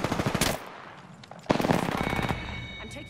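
Rapid automatic gunfire from a weapon in the Apex Legends video game, a dense close burst, a pause, then another sustained volley.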